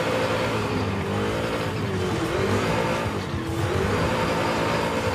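A Chevrolet Camaro ZL1 in the racing game Forza Horizon 5 roars continuously, its engine pitch rising and falling through hard acceleration and shifts, loud and steady with faint tire squeal.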